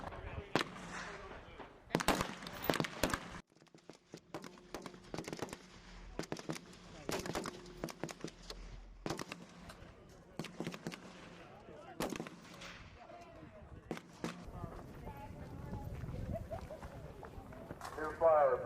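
Soldiers in a Basic Officer Leadership Course firing weapons at a shooting range, irregular sharp cracks and short volleys scattered throughout, some near and some farther off, with range commands spoken between shots.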